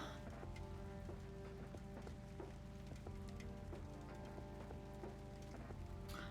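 Steady rain patter in the video game Kathy Rain, a continuous even hiss that holds for the whole stretch beneath soft, sustained musical tones.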